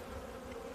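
Calm Buckfast honey bees resting on honeycombs give a faint, steady, low buzzing hum, brief and soft.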